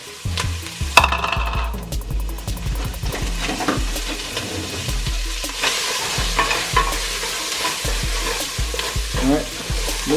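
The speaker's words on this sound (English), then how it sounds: "go right in with one whole, about a medium yellow onion." A medium yellow onion sizzles and fries in a pot for beef short ribs, stirred repeatedly so a spoon scrapes and clinks against the metal over a steady close crackle.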